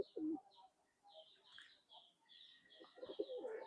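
A chot breed pigeon coos faintly nearby in short, low, throaty bursts at the start and end, with quiet chirps and a little room noise between.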